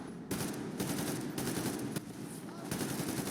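Sustained automatic gunfire in a video game shooter, a dense, loud rattle of rapid shots with brief breaks between bursts, as covering fire is laid down.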